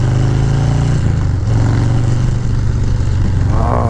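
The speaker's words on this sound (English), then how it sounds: "But this exhaust sounds great." A motorcycle with a TBR aftermarket exhaust runs loud and close with a deep, throaty exhaust note, its pitch shifting slightly as the throttle is blipped.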